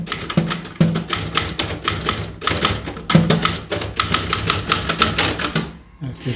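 A manual typewriter in Saadat, Ghazipur, clatters loudly and up close with rapid, dense keystrikes, broken by a few sharp pauses and carriage returns, while voices murmur faintly beneath the typing.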